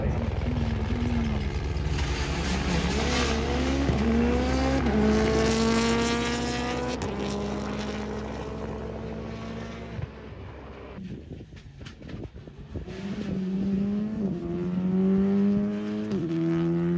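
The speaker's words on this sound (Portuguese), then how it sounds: "Daqui a pouco vai passar o carro aqui na minha frente agora" A WRC rally car at Rally Germany roars past spectators, its engine rising and falling through rapid gear shifts as it approaches, passes close and then revs away again, loud against the roadside crowd.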